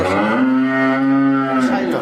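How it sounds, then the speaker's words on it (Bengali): A Sahiwal cow gives one long, close, steady low moo lasting nearly two seconds, rich and droning before tapering off at the end. "শাহিওয়াল জাতের গরু এটা"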